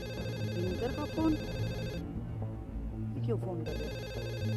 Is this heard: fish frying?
no